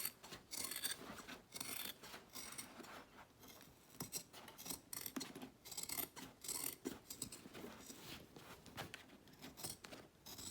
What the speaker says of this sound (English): I do like to trim the rest of this away on the bag